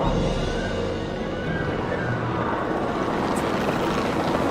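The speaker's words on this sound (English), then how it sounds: "We have a helicopter standing by, and they'll attempt to tranquilize the animal from the air." Helicopter in the Jurassic World Evolution game, a steady loud rotor drone and engine rumble hovering nearby without pause, no voices over it.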